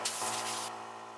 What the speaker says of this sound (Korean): (400번) 사포를 이용해서 사포 작업을 합니다.